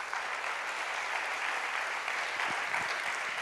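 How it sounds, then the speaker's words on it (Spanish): A church congregation gives steady, dense applause throughout, a continuous wash of clapping with no talk over it. "Dale un fuerte aplauso a Dios."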